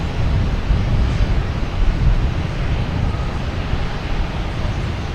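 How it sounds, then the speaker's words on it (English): A United Boeing 737-800 airliner at Boston Logan Airport makes a continuous, fairly loud broadband jet roar, steady throughout, with some wind buffeting on the microphone. "United, heading to Chicago, 737, 800, flight 546."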